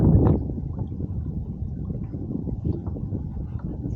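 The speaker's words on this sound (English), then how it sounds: "just battling these waves a little bit" Wind and choppy waves on the Susquehanna River around a kayak, a steady low rushing of wind noise and water sloshing close to the boat, louder briefly at the start.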